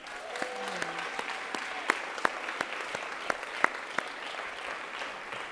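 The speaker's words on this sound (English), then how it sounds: "Let's hear a round of applause for our alumni difference makers." An audience applauds the honorees at a university alumni awards ceremony, with steady dense clapping filling the hall and a few sharper nearby claps cutting through, while faint voices murmur underneath.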